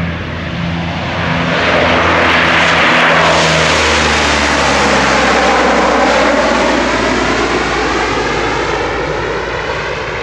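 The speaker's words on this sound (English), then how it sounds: "Here comes a plane." A loud airplane roars low overhead, its engine drone swelling and then sliding downward in pitch as it passes, with no talking.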